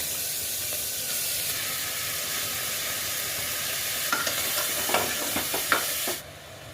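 Carrot, papaya, capsicum and onion stir-fried in a pan make a constant hissing sizzle, with a few spatula scrapes toward the end before the sound drops off abruptly; no speech.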